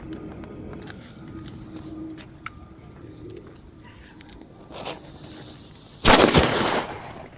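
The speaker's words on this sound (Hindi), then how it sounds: "और अब रहा हम लोग के पास ये बड़ा वाला बुलेट" A big bullet-type Diwali firecracker goes off as one sharp, loud burst near the end, breaking a quiet stretch of faint background noise and scattered small clicks.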